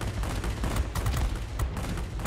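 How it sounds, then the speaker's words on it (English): 30mm cannons on a Ki-162-III fighter in the World of Warplanes video game fire a continuous, loud, rapid-fire stream of heavy thudding shots with no pause. "Again, the 30mm cannons,"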